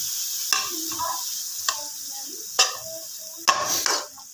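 Ginger garlic paste is stirred into a sizzling pan, with a steady frying hiss and four sharp scraping strokes of the spoon spread across a few seconds; nobody speaks.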